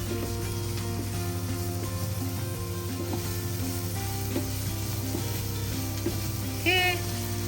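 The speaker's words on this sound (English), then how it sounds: "let it get fried for some time" Ginger and vegetables fry in a pan for Indian-style soya fried rice, giving a steady, loud sizzle throughout, with an underlying hum and a few light clinks of a spatula or stirring utensil near the end.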